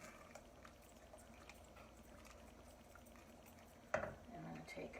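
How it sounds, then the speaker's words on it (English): Half a cup of vegetable broth is ladled into a pan of stuffed cabbage, and it lands with a sudden close splash and sizzling bubble that briefly rises above a quiet background simmer. "I am going to add 1/2 cup of my vegetable broth"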